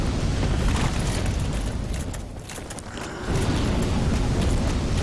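Fire bursting in the Dark Souls video game: a loud, dense roaring whoosh that fills the whole clip, easing briefly in the middle before surging back to full force.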